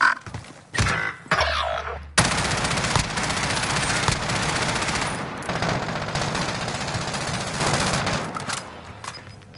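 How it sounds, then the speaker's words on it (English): Video game gunfire with rapid automatic bursts and heavy shots, loud and dense. It cuts out briefly near the start, then returns as sustained, overlapping firing that runs to the end. "Receiving hostile fire."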